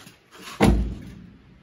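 A single solid thud as a car door on a body being prepped for bodywork is shut or knocked, close and fairly loud, with a short fading resonance afterward.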